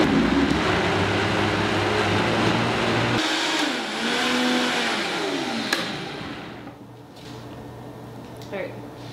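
A Vitamix blender packed to capacity churns fennel and mint with a loud, steady motor roar that shifts in pitch as the load thickens, then spins down, while a person speaks over it.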